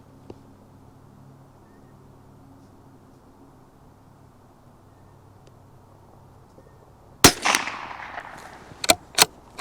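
CZ 457 Lux .22 rifle firing at a final target, with a quiet stretch followed by a sharp close crack, its echo trailing off, then two more quick shots near the end.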